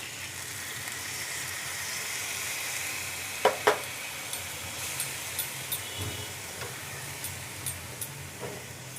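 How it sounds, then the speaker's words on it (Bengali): Potatoes coated in spices sizzle steadily in a pan after the water from rinsing the spice bowl is poured in, with a continuous hiss and a few sharp stirring clinks. "এখন আমি এই মশলার বাটি ধোয়া জলটা দিয়ে দেবো"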